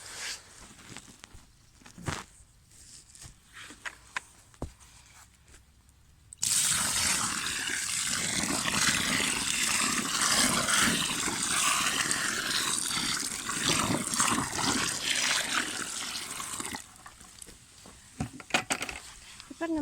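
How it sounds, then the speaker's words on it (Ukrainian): Water from a bucket splashes and gushes steadily into a planting hole for a grapevine for about ten seconds, with quieter scraping and movement before and after. "Тепер в мене є ось таке відро води і проливаємо яму водою."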